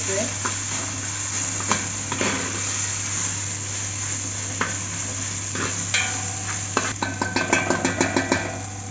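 Paste hits a hot pan of browned onions and fries, with a steady sizzle, scraping stirs and a quick run of spoon clinks against the pan near the end, under a constant low hum.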